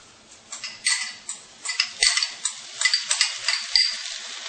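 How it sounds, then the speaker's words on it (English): Tomatoes tumbling into a pan of aloo methi on a just-switched-off stove, giving a run of close, crackly sizzles and soft clattering bursts that swell and fade over several seconds. "I'm going to add in the tomatoes."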